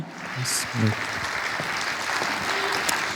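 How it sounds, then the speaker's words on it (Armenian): A congregation claps during a Christmas church service, with steady sustained applause from a large crowd in a reverberant hall and a few murmured voices underneath. "Կեցեք ձեր ծափահարությունները"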